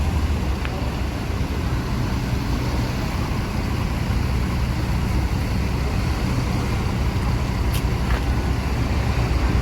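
Steady broadband roar of road traffic with heavy vehicles, including new Putra Remaja Skylander R22 buses, rolling past continuously at moderate distance, a brief higher whine near the end, no clear voices.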